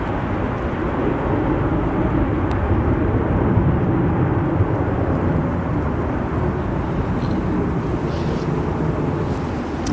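An aircraft landing at Manchester Airport in the early morning, a loud, steady broadband jet roar that fills the whole stretch without pause or voices.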